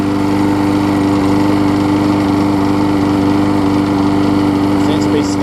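Husqvarna lawn mower with an aluminum deck and a new carburetor running steadily at close range, a loud constant engine drone with a slight skip in its rhythm.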